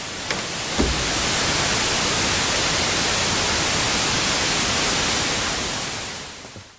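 TV static in a horror video game: a steady loud hiss of broadband noise that sets in after a brief click and holds for several seconds before fading slightly at the end, with no voices.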